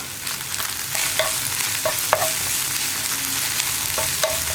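Ginger garlic paste fries in a pan while a spatula stirs it, giving a steady close sizzle broken by sharp scraping clicks and taps. The scrapes come at irregular intervals and no voice is heard.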